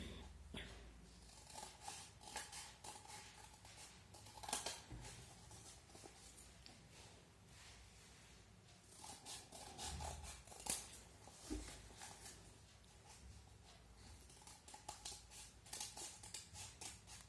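Scissors snipping through paper to cut out copies of a drawn angle for a class 9 maths activity, short quiet crisp snips scattered irregularly over a soft background.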